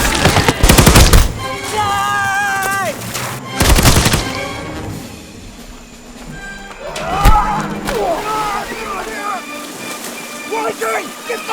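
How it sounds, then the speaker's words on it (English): M1918 BAR and other automatic weapons in a battle film scene: loud bursts of rapid gunfire at the start and again near four seconds, with shouted voices and battle noise filling the gaps. "Mikey, get that goddamn BAR up"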